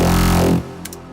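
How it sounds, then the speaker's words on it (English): Sustained synth tone with a band reject filter carving a notch from its spectrum, loud and alone for about half a second before fading into a faint tail with a brief bright flicker. "you can hear the band reject like this"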